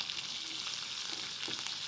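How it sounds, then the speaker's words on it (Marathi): Curry leaves, mustard seeds and cumin crackling in hot oil in a pan, a faint steady sizzle with small pops, no talking. "चपट वाजते एकदम कढीपत्ता."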